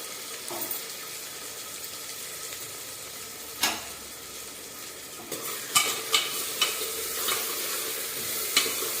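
Tomato and sliced onion sautéing in a pan for daliya khichdi, a quiet steady sizzle with several sharp stirring clinks and scrapes clustered toward the end, nearby, no talking.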